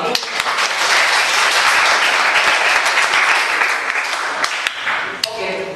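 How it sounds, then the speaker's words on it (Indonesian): A class of students gives a loud, sustained round of applause in a vocational high school classroom, dense clapping continuing steadily for several seconds with a few sharper individual claps toward the end. "Tepuk tangan."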